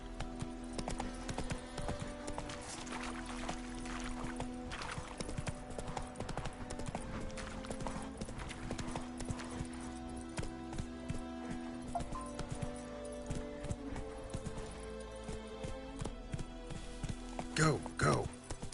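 Horse hooves clip-clopping in the video game The Witcher 3: Wild Hunt on PS5, a steady rhythmic trot heard close under intermittent talking, with brief game music tones.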